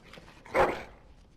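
A single sharp dog bark in Dragon Age: Origins, close and brief, standing out against a quiet background.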